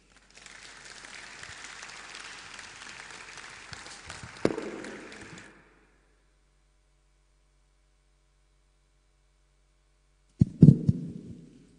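Audience at a digital economy summit in Ogbomoso applauds for about five seconds, a steady wash of clapping that then stops, followed by silence and a few brief handling knocks.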